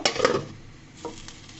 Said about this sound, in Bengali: আমি আবারও একটা ঢাকনা দিয়ে ঢেকে দিব সিদ্ধ হওয়া পর্যন্ত।